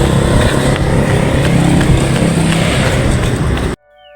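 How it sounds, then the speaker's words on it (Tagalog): Vehicle engine roars loudly and steadily while moving fast, with a rough, rumbling drone that cuts off abruptly near the end, without any voices. "Ang bilis ng tunog ng sasakyan."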